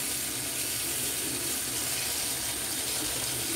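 Water runs steadily from a tap into a sink, a continuous loud hissing splash that fills the whole stretch without pause and with no voices.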